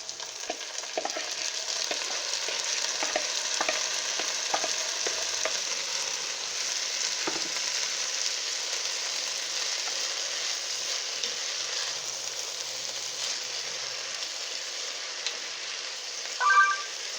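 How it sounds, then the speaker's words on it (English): Bitter melon frying in olive oil with onion and garlic, a steady broad sizzle held close and even throughout, with a few faint clicks and a brief clatter near the end. "I'm just gonna add the melon now"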